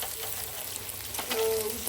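Garlic frying in hot oil in a home kitchen, a soft continuous sizzle with faint crackles, fairly quiet and without talking.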